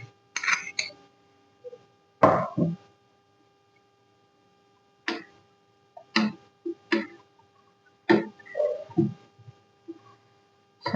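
Spoon stirring sago into warm milk for falooda: several separate bright clinks and taps of metal on the bowl, spaced irregularly with quiet gaps between them, close and clear, with no talking.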